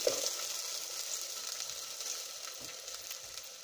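Onion and garlic sautéing in a pan, a soft, steady sizzle with faint crackles, fairly quiet and close, no voices.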